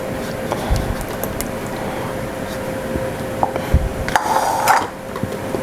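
A whisk scrapes and clinks irregularly against a bowl while cream cheese mixture and whipped cream are beaten together for a mango cheese pie, with occasional sharper taps of utensils close by.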